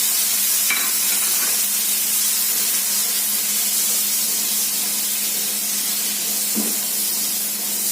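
Red masala, garam masala, salt and turmeric sautéing in a pan for a cashew curry, giving a steady loud hiss and sizzle throughout with a couple of brief stirring scrapes.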